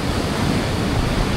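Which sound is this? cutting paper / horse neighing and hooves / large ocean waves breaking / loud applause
large ocean waves breaking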